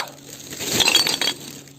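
Glass items clink and knock together as they are sorted from an illegal dump site, a short cluster of bright, close, ringing impacts swelling mid-moment and then fading.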